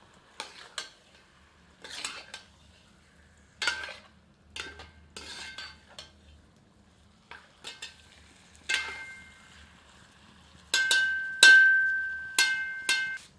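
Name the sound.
stirring chicken curry with spices in a copper lagan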